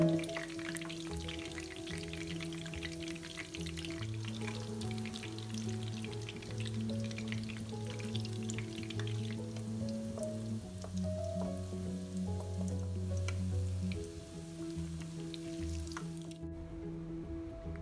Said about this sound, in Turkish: Köftelerimizi tavaya diziyoruz ve her yeri nar gibi kızarana kadar yaklaşık 4-5 dakika